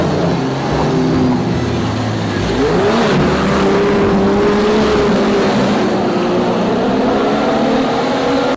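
A toy off-road car's motor whirs loudly and continuously up close, with a rising and falling pitch as it drives.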